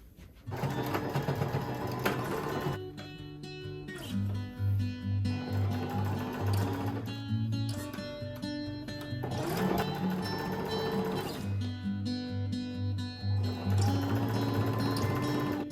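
A domestic sewing machine stitches a seam across a folded fabric hem in bursts of steady, rapid mechanical whirring, pausing briefly between runs, close and fairly loud with no talking.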